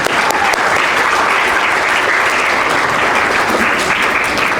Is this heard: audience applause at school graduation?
yes